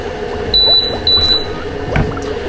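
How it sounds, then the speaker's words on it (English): Two high electronic beeps in quick succession from an espresso machine signalling the latte is ready, followed by two more, over a steady machine hum and a soft liquid gurgle. "after you hear the double beep, that means the latte part is ready"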